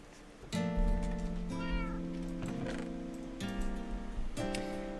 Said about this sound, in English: And I get to sleep among my kitties.